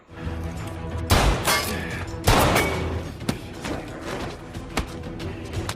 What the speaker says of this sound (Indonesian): masih terdengar suara adu tembak di tempat bom berada